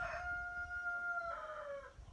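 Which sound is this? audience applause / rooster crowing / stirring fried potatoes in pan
rooster crowing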